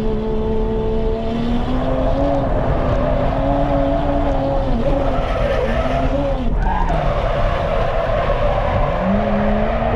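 A Toyota JZX100 Cresta drift car lapping at the Ebisu circuit, its engine revving hard and wavering as the tires skid and squeal continuously, loud and close throughout with no talking.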